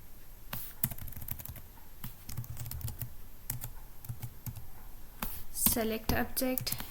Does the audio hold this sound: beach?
no